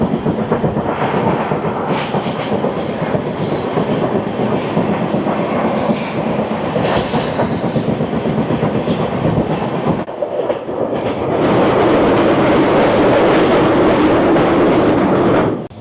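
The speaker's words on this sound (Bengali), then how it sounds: "আমাদের ট্রেন এই মুহূর্তে এসে পৌঁছানো হচ্ছে মন্দার দিশা জংশনে।" A Garib Rath Express passenger train rolling on rails near a junction, a loud, continuous rumble with rattling wheel clatter heard from inside. The roar grows fuller and louder in the last few seconds, with no talk.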